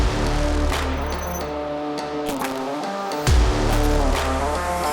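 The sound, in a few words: Skoda Slavia and Hyundai Verna drag race launch with wheel spin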